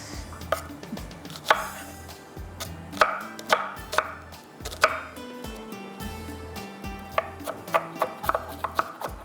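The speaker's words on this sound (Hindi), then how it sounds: "बारीक बारीक चॉप कर लेते हैं" Onion and tomato being finely chopped with a knife on a board for a desi masala chicken dish: steady, close rhythmic chops, some sharp and loud, continuing throughout without talk.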